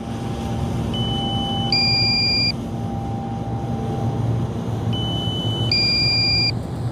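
Two bursts of a drone's low-battery warning beeps at 12% battery, a steady high tone stepping between pitches, repeat about four seconds apart over constant low wind and engine-like rumble, at the Virginia Beach oceanfront.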